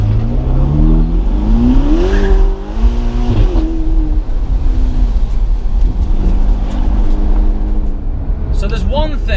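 A Ferrari GTC4 Lusso T accelerates hard, its engine climbing steadily in pitch through the gears with a loud, continuous drone heard from inside the car while someone talks over it.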